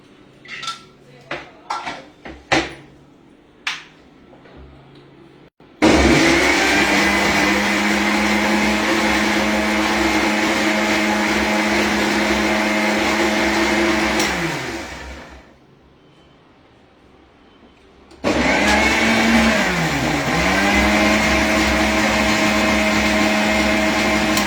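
A kitchen mixer grinder blends ingredients into a fine, creamy paste, a loud steady motor whine running for several seconds, dropping out briefly, then starting up again, preceded by a few sharp clinks of utensils.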